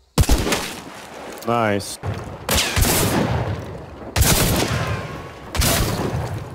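Several bursts of heavy gunfire fill a video game scene, loud separate volleys with short gaps between them, while a player speaks briefly.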